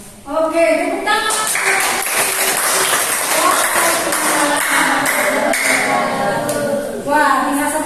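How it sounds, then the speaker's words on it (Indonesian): A classroom audience of teachers at an academic supervision session claps hands together in a loud, steady burst lasting several seconds, with voices cheering and calling out over the clapping. "Oke, tepuk tangan."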